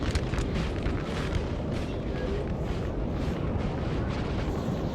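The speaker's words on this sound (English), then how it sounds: "by artillery fire." Artillery cannon fire in a Napoleonic battle in Total War, Peninsular campaign: a continuous, loud roar of overlapping booms and blasts with no clear gaps, dense and close.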